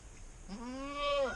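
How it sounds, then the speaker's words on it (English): On a farm, a single goat gives one close, clear bleat of about a second that rises and ends with a quavering upward break, heard alone against faint background noise. "Here's the goaty goats."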